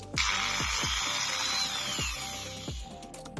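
A repaired Dnipro-M angle grinder runs steadily up close with a bright high whine, no speech, and periodic low thumps beneath the motor noise.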